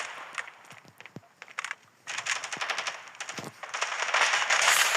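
Gunfire in the mobile shooter game Standoff 2: rapid automatic bursts and single shots, close and crackling, in quick clusters that grow denser and louder toward the end.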